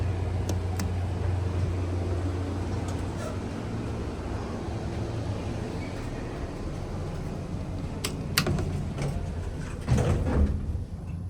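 Doors of a Dover traction elevator in a parking garage slide shut under a steady low rumble of machinery, with a few faint clicks and a soft thud near the end.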